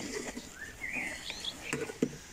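A common blackbird sings at sunset, short fluting phrases and chirps at moderate distance, with faint rustling and a few soft knocks around them.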